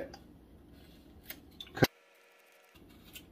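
Chip carving knife cutting into a block of wood, a few faint scrapes followed by one sharp, close crack or snap, then near silence.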